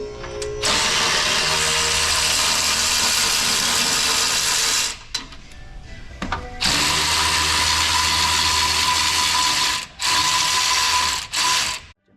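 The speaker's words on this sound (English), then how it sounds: "Take off these old skid plate brackets right here." A ratchet wrench cranks loudly and continuously on the skid plate bracket bolts of a Ford Bronco, long buzzing runs of fast clicking broken by short pauses.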